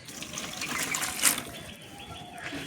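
Water gushes and splashes at moderate volume from a tap into a container on a rooftop garden in the morning, filling steadily with a brief louder surge midway.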